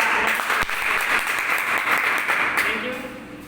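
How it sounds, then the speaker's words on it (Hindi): Vigorous applause from a home meeting audience, a continuous wash of many hands clapping together, steady and fairly loud before easing slightly at the end, with a voice faintly beneath it. "चलिए तो जोरदार ताली हो जाए"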